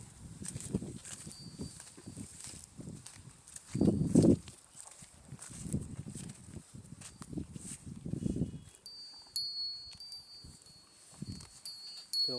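Cows and buffalo walk slowly along a path, their hooves thudding in soft, irregular clip-clops at close range. The steps come in scattered bursts with quiet gaps between them, and faint high tones drift in the background.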